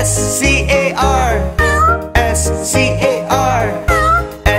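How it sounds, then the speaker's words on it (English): A farmer's cat is voiced in a children's song as a run of melodic meows, several sung cat calls in rhythmic succession, loud and close, carried over a steady musical backing. "There was a farmer who had a cat, and Oscar was his name."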